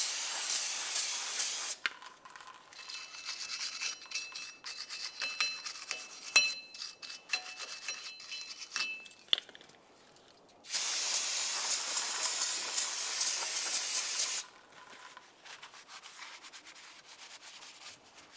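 Parts cleaner hisses out of a spray can in short bursts, alternating with a wire brush rasping over an axle's mating surface on a 1998-2002 Lincoln Navigator, close and with no talking.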